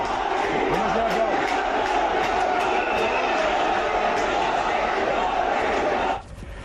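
A large crowd at the Ramdevra fair chants Modi Modi slogans, a steady dense roar of many voices that holds throughout, then drops off abruptly at the end.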